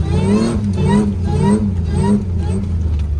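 A Toyota Hilux with an L67 engine swap revs hard while driving on sand, the engine note rising and falling in repeated surges, loud and close, with voices talking over it.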